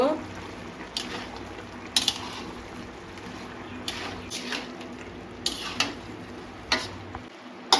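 A spoon stirs a vegetarian mixed-vegetable curry with lentil dumplings in a pan, giving soft scraping strokes roughly once a second over a quiet, low background.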